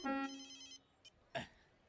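A telephone rings with a bright, harmonic electronic tone that sounds for under a second and then cuts off, followed by a faint click and a short rustling burst.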